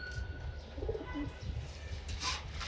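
Soft, low cooing of pigeons in a loft with a few faint chirps over a steady low rumble, close by, with no voices.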